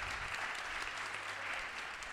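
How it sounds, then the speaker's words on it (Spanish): Faint, steady applause from the audience at a curvy fashion model event, dense continuous clapping heard from some distance with no talking. "Un aplauso, claro."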